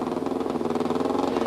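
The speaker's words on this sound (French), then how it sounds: "Et écoutez le moteur de la Subaru et surtout regardez la fumée." A failing Subaru rally car engine with a broken piston, at the 1998 Rally of Great Britain, runs with a rough, pulsing idle and an uneven, throbbing beat. It is heard up close with no talk over it.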